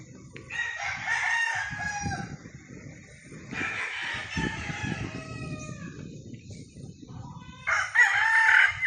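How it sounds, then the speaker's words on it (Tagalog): A large rooster crows close by several times, each loud call separated by pauses, with scattered clucks and faint background noise between them. "Ito, may malaking manok dito, oh."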